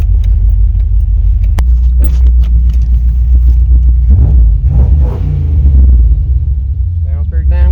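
A 1993 GMC Sierra pickup with a small-block 350 V8 idles steadily with a deep, continuous low rumble close by, and people talk over it throughout.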